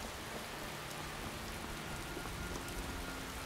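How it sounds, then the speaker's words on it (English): Steady, even patter of rain falling in the video game Skyrim, a soft continuous hiss with faint drops, no voices. "if you look up in the sky like that when it's raining, every now and then you'll get hit in the eye with a raindrop"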